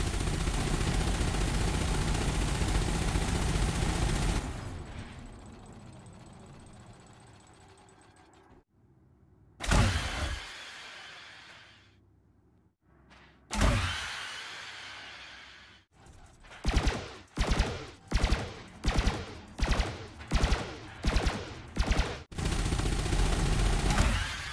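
Spaceship weapons fire in the Elite: Dangerous video game. Loud sustained blasts give way to a few separate heavy bursts, then a rapid string of about ten evenly spaced shots, ending in a continuous roar.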